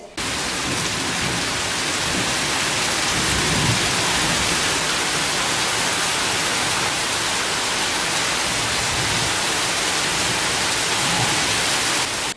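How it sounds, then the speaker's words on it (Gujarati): Heavy rain pours steadily in a dense, continuous roar, with low rumbles of thunder beneath it throughout. "ગાજવીજ અને પવન સાથે ગત શુક્રવારની રાતથી ભારે મેઘ ખાંખાયા છે"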